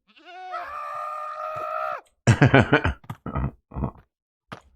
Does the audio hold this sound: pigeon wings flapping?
no